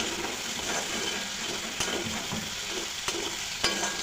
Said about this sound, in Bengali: কড়াইতে তেল দিয়ে দিচ্ছি এখন ঝিঙ্গাগুলো ছেড়ে দেবো